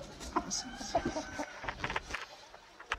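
Hens cluck and murmur close by in short, irregular bursts, with a few sharper squawks.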